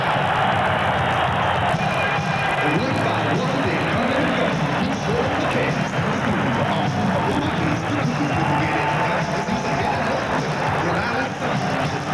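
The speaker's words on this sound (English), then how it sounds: "Crowd on its feet, and they are greeting Vinny Pazienza." Boxing arena crowd on its feet cheering and roaring as Vinny Pazienza is greeted before his fight with Roberto Elizondo, a dense, continuous wall of crowd noise with shouts rising throughout.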